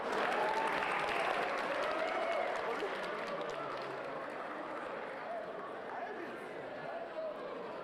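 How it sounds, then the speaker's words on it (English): A boxing-match crowd applauds the boxers after a second-round knockout, a dense, steady wash of clapping mixed with cheering and crowd noise that holds for the whole stretch. "let's give our boxers a big round of applause"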